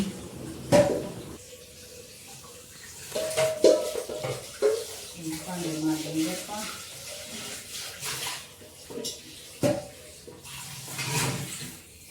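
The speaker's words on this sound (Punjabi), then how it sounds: "ਰੋਟੀ ਖਾ ਕੇ ਆਪਾਂ ਲੱਗੇ ਭਾਂਡੇ ਧੋਣ" Dishes being washed by hand under running water at home, with intermittent splashing, pouring and clinks of pots and pans, close by, as a person talks in between.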